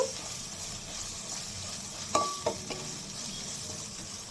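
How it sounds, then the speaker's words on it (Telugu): Garlic paste fries on a high flame for fish curry, a soft steady sizzle with a few brief clinks of stirring near the middle. "హై ఫ్లేమ్లో పెట్టాను టూ మినిట్స్ అలా వెల్లుల్లి పేస్ట్ కొంచెం పచ్చి వాసన పోయే వరకు వేసుకుందాము"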